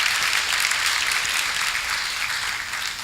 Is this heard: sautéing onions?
no